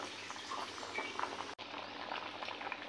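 Fish curry broth simmers at a steady, quiet boil before the fish goes in, with soft continuous bubbling and a momentary dropout midway.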